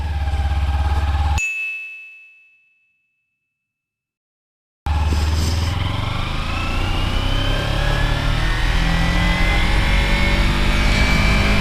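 A Kawasaki Ninja 300 motorcycle engine runs loudly, cuts out into a brief silence, then comes back as the bike rides off, its pitch rising through the gears as it accelerates.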